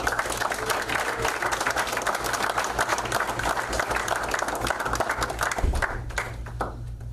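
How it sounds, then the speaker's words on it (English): Steady, loud applause from a crowd at a high school athlete signing event, sustained clapping throughout that thins out near the end. "Round of applause."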